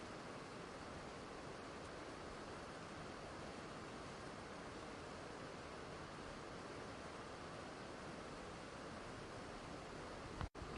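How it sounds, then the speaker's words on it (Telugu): Ethipothala waterfall pouring from a height onto rocks, a steady loud roaring rush of water that continues unbroken throughout, with no voices. "ఎత్తు నుంచి కురుస్తున్న నీరు రాళ్లపై పడుతూ ఒక ప్రత్యేకమైన శబ్దం"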